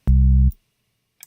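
A synthesizer oscillator switched to a low sawtooth waveform plays one short, buzzy, harmonically rich note about half a second long, cut off abruptly, followed by near silence and a faint click.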